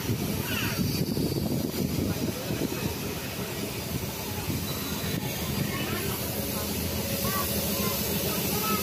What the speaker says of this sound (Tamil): யாரோ செயின் புல்லிங் பண்ணியிருக்காங்க சடன் பிரேக்கிங்கோட